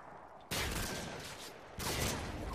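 Two bursts of rapid gunfire from a Modern Warfare 2 multiplayer team deathmatch, each a dense, loud volley lasting about a second, the second following shortly after the first.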